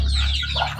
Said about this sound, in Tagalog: dito naman tayo sa ating mga sisiw